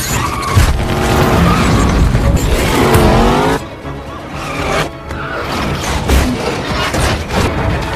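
Cars race through a chase on a bridge in a Fast & Furious film, with loud engines and sharp tire squeals and skids, a brief lull in the middle, then more roaring and screeching.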